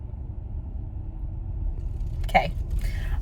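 Inside a moving car, a quiet, steady low rumble of road and engine noise runs throughout, broken by one brief soft knock near the end.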